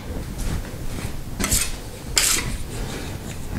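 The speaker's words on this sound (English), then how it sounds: "we're going to take our other spackle and we're going to finish it off" A trowel spreads and smooths spackle across a patched hole in a wall, giving two brief scraping strokes over a quiet background.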